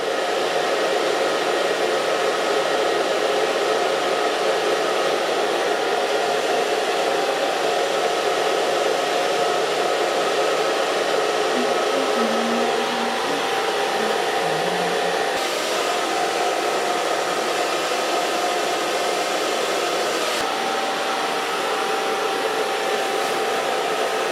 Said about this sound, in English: put it with a rubber band on your blow dryer, and you have also a diffuser